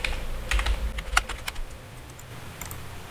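Someone types on a gaming computer keyboard. Irregular clusters of crisp keystrokes sound close but quiet, thinning out toward the end, with no voices.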